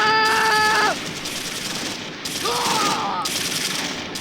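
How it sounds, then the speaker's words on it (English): Machine gun bursts rattle in the World War II strategy game Close Combat 3, rapid and continuous over battlefield noise with in-game radio tones and chirps. "MG is redeployed and is firing on the enemy"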